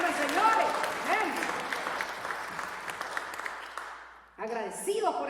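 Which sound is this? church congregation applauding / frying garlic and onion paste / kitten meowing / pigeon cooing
church congregation applauding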